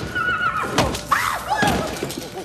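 Horse whinnying in the film Nope: a loud neigh with a rising, wavering cry in the middle of the clip, backed by scrappy movie background noise and a possible voice.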